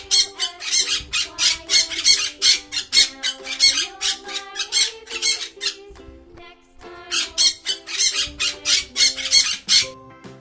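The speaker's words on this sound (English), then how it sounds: "P for parrot." A parrot squawks in rapid, loud repeated bursts, a harsh run of calls that pauses briefly and then resumes, with no one speaking over it.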